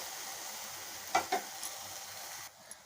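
Sukkudi greens sautéing in a pan for paruppu kadayal, a steady soft sizzle with a couple of brief stirring scrapes partway through, then the frying quiets slightly near the end.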